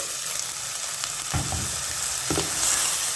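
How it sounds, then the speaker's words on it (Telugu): Tomato paste fries in hot oil for an egg masala curry, a constant moderate sizzle marked by two short bursts of louder crackle as the mixture is stirred. No voices are present. "దీంట్లో నుంచి కూడా ఆయిల్ పైకి వచ్చే వరకు ఆయిల్లో ఫ్రై చేద్దాము"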